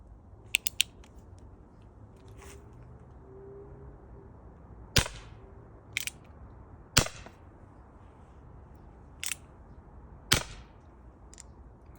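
A CCM paintball revolver fires about six sharp, cracking shots at irregular intervals of one to two seconds, with a few faint clicks early on, over quiet outdoor background.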